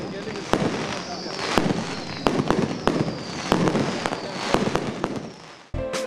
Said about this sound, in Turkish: Açılış töreni gecenin sonunda düzenlenen müthiş bir havai fişek gösterisiyle son